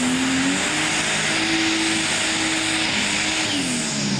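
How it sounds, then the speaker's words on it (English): A big tractor-pulling engine roars at sustained high revs while over-revving with the wheels not spinning, droning steadily and loudly with a slight rise and dip in pitch, no voices present, at a 2000 Imlay City truck and tractor pull. "Not a good sound over revving the motor like that when the wheels are not spinning."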